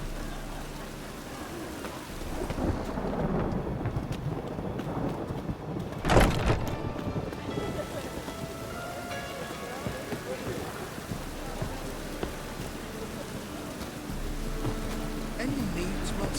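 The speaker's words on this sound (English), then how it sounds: "Raining again." Steady rain falls throughout a stormy scene in The Witcher 3, with a sharp crack of thunder or a loud impact around the middle. Voices and game ambience sit beneath it.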